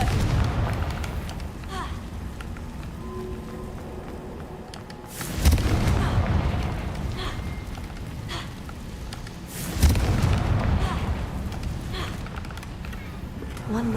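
Two deep booming blasts from the Confringo fire spell in Hogwarts Legacy punctuate a steady game backdrop of rumbling ambience and scattered effects, each burst loud and briefly swelling before fading.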